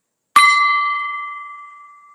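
A small desk gong struck once to open a live reading session, a sharp close strike followed by a clear bright ringing tone that slowly fades away over about two seconds, heard alone.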